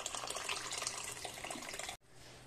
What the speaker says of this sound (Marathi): पाणी गरमच ओतायचं.